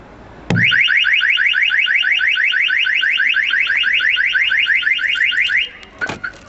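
A CAN bus alarm on a Volkswagen Golf Mk5 sounding off, a loud rapid repeating electronic siren warble lasting about five seconds after a sharp tap, then stopping abruptly.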